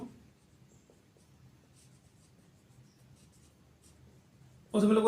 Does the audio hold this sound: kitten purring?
no